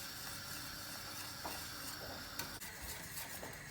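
Yogurt bulgur soup simmering on low heat in a pot, a steady soft hiss and faint bubbling throughout, with a few light clinks of a spoon or pot partway through.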